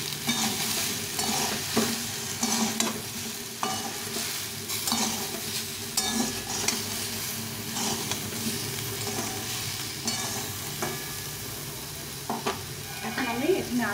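Pumpkin curry with fresh green chillies and chilli powder frying and being stirred in a pan, a steady close sizzle broken by repeated scraping strokes of the spoon throughout.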